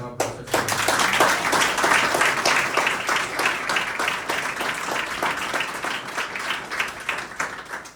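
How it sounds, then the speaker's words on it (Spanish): A church congregation applauds during a Spanish-language sermon, with sustained, lively clapping from many hands that stays full and steady throughout. "¿Cuántos les dan aplausos al Señor?"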